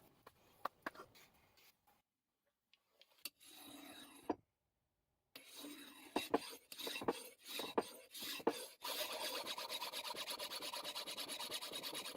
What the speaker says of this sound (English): the only way to get this anvil flat is with a file